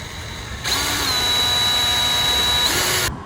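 A power drill whirs steadily for about two and a half seconds, loud and close, starting and stopping abruptly with no talking.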